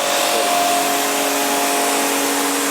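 A portable automatic pressure washer sprays water to clean a floor, its motor giving a loud, constant whining hum over a hissing jet, unbroken and close, with no speech.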